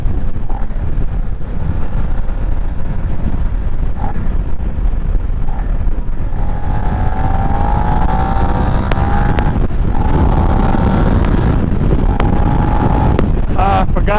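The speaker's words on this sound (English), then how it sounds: "Just practicing downshifting." A Suzuki SV650 motorcycle rides under heavy wind rush, its engine revs rising and dropping through a series of downshifts, with brief sharp blips near the end.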